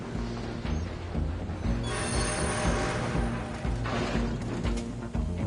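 Steady rumble of a game train rolling along rails, with clanking wheel and car noise and brief metallic screeches rising over a continuous low mechanical drone, fairly loud and near.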